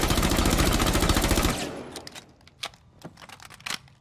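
Full-auto rifle fire in Rainbow Six Siege, a dense rapid burst of about a second and a half with recoil held steady, followed by a few scattered sharp single shots and clicks at lower level.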